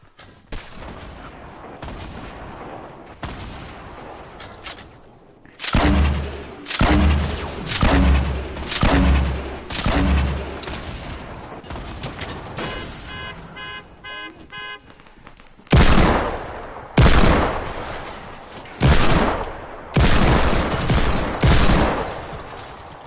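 Shooting in a video game: bursts of loud gunfire and booming shots come in repeated clusters, with quieter distant pops between them, some rapid rattling fire in the middle and heavy blasts near the end.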